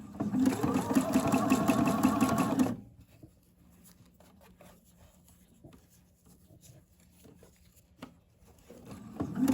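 A sewing machine stitches a Devonshire bra, running fast and close for nearly three seconds, then stopping, followed by quiet handling of fabric and a brief restart at the end.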